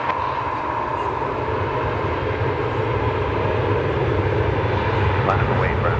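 Airliner engines roar steadily at DFW Airport, a continuous loud broadband rumble at night, with voices talking over it throughout.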